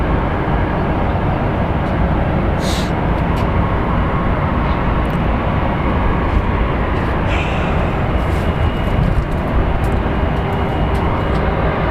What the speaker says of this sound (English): So let's at least get this plane landing and then we'll call it a day.